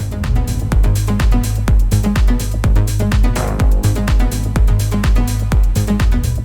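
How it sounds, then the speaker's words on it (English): A fat, powerful electronic-music lead synth plays within a driving track, thick sustained tones over a steady pounding kick beat, loud and continuous with no talking. "The last piece is kind of a Hall of Fame fat sound of electronic music."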